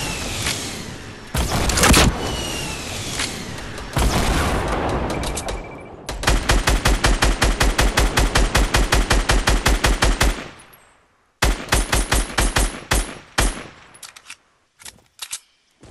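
SCAR assault rifle firing in Fortnite: loud bursts of rapid automatic gunfire in long rhythmic strings, broken by short pauses and ending in a few scattered shots, with no talk.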